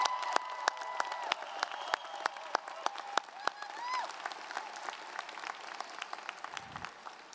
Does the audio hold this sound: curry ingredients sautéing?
no